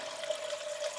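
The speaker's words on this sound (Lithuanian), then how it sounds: "Taigi prisipilam 250 ml vandens" 250 ml of water is poured into a glass to mix a Herbalife Rebuild Strength protein shake, a soft, steady stream with a faint rising tone, close and alone.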